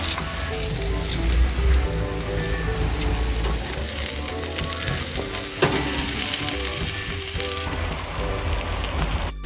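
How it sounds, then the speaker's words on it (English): Oiled burgers sizzle steadily over barbecue coals, a close, continuous crackle and hiss with faint popping throughout and no talking. "I'm going to brush them with a little bit of oil before I put them on the coals."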